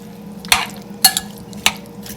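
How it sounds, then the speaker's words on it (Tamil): Tomato sambal for biryani, made with lime juice, is mixed in a bowl: three or four sharp spoon clinks and scrapes ring out close against a faint low hum, with short quiet gaps between strokes. "எல்லாத்தையும் சேர்த்து நல்லா மிக்ஸ் பண்ணுவோம்"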